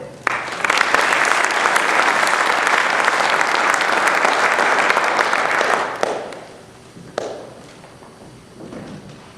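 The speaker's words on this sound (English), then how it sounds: "let's give another round of applause for this year's inductees of the Ottawa Township High School Education Foundation Hall of Fame" Sustained, dense audience applause at a high school hall of fame induction ceremony fills a hall for about six seconds, then fades quickly into scattered claps and room noise.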